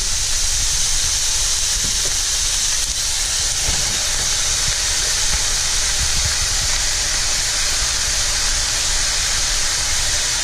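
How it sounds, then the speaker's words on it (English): Ground hamburger meat and onions browning in a hot pan for a cheeseburger tater tot casserole, giving a steady, loud broadband sizzle and hiss that runs unbroken and without talk. "I'm going to go ahead and brown my hamburger and onions"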